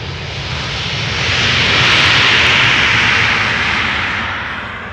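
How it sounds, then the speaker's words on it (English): A Transavia Boeing 737-700 arriving at Amsterdam Schiphol Airport from Manchester: a loud, steady jet-engine roar swells as it passes, then slowly fades, with no voices over it. "That's the 737-700 arriving from Manchester"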